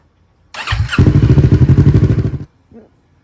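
A 2022 Kawasaki Ninja 650 motorcycle engine cranks and fires up, then runs with a loud, rapid pulsing idle for about two seconds before cutting off, followed by a short clunk.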